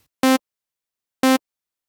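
Snare synth VST on its initialization preset: two identical short tonal beeps about a second apart, clean and pitched with no noise, moderately quiet and isolated against silence.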